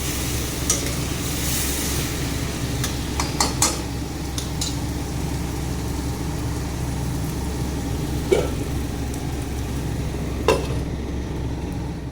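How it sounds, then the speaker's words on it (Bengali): Spice masala fries in a pan for a dry fish dish, a continuous loud sizzle under steady stirring with occasional metallic clinks of a spoon against the pan. "তবে ভালো করে একটু ভেজে তারপরে জল দিয়ে দেবো।"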